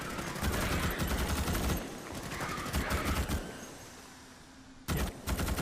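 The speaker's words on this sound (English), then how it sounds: "This rifle's got a lot of recoil on it." Rifle gunfire with heavy recoil in a video game: bursts of loud shots crack in quick succession, pause, then resume near the end.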